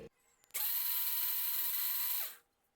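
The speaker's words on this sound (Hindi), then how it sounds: "और अब हम इन सभी चीजों को अच्छे से ब्लेंड करेंगे।" A loud, steady high-pitched blender motor whir starts abruptly, runs for about two seconds, then cuts off, blending yogurt and cold water into a salted drink.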